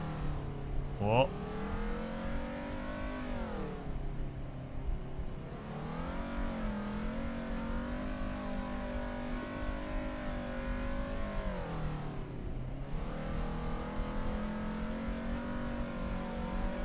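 Race car engine in the Assetto Corsa driving game revving steadily and loud, its pitch climbing and dropping in repeated cycles as gears shift, with a brief squeal early on.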